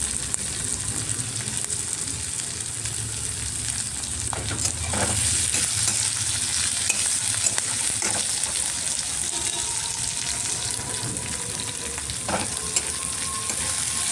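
Garlic, ginger and green chillies fry in a pan, giving a steady, close sizzle with faint scraping stirs throughout, and no talk.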